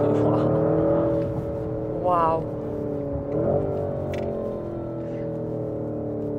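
A Porsche SUV with nearly 750 horsepower and 1000 Nm of torque drives along, its engine a steady low drone that swells briefly as it pulls. A voice exclaims once over the rumble.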